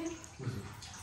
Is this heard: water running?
yes